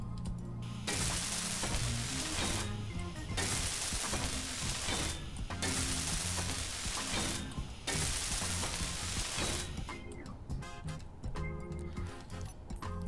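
Welding in the game Space Engineers gives a loud buzzing, crackling hiss that starts and stops in several bursts of a few seconds each, alone without talk.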